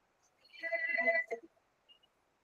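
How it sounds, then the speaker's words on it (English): A phone notification tone chimes during an online lecture on industrial and employment relations, a short bright electronic chirp with a brief faint follow-up blip, alone and without talk. "I got a notification, so I thought someone was asking a question."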